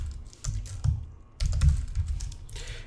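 Fingers tap out code on a computer keyboard in short irregular runs of close, crisp clicks, with a brief pause near the middle before typing resumes.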